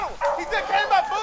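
Hunting dogs on a rabbit hunt bay and yelp in overlapping calls, moderately close and continuous, mixed with people talking.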